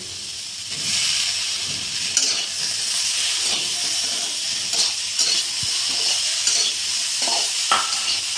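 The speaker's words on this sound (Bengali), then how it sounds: "এখন টমেটো কুচিটা ভালো করে নেড়ে চেড়ে অল্প সময় অপেক্ষা করব।" Chopped tomatoes sizzle loudly in a hot pan for paneer gravy, a continuous frying hiss broken by repeated scraping strokes of a spatula as they are stirred.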